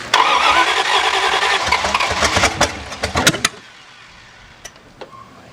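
A 1951 Chrysler Saratoga limousine engine, sitting unused for over 30 years, cranks loudly and sputters for about three seconds, then cuts off, leaving quiet background with a few faint clicks.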